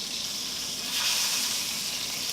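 A bacon-wrapped pork loin roulade sears in a hot pan, giving a steady, close sizzle with bright crackling hiss that swells slightly midway and never lets up.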